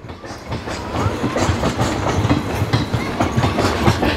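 A train rolls off the main line onto a diverging track at Karimnagar station, its wheels beating a steady clickety-clack over the rails up close, with no voices over the continuous rumble.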